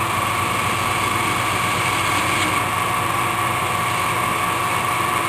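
Machine cutting a pulley with a very small bit in light passes, a steady whining motor drone with a constant tonal buzz and even vibration, running without pause or talk.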